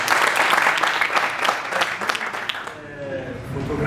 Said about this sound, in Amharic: ለሁላችሁም ደግሞ አንዴ ሞቅ ያለ ጭብጨባ።